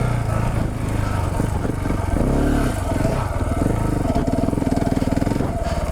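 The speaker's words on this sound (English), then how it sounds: "let's give this little hill a go here. No shortage of power with the good old 690." A KTM 690 Enduro single-cylinder motorcycle climbs a hill, its engine loud and close with a steady throbbing drone that swells under throttle, with some clatter and scraping from the terrain.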